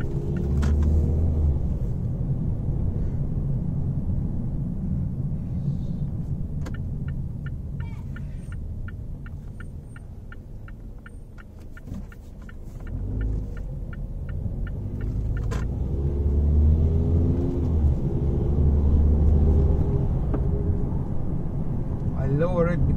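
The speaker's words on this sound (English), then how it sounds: "I will be in the highway and you guys will see how am I driving the highway." A car cruises along a highway in Bahrain, giving a steady low engine and road rumble with some wind noise throughout, heard from inside the cabin.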